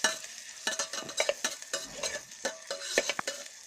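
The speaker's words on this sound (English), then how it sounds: "fry the masala" Masala with red chili powder is fried and stirred in an electric kettle: rapid close scraping and clinking strokes over a faint continuous sizzle, with no voices.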